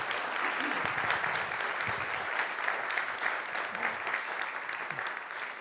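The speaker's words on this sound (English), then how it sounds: "Let's give them a big round of applause, please." Sustained applause from an audience, a dense clatter of clapping that holds steady throughout and tapers slightly at the end.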